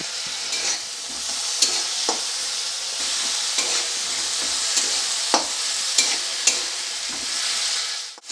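Chopped tomato sautés in a pan for a Bengali bata fish curry, with a loud continuous sizzle broken by sharp, regular spatula clicks against the pan.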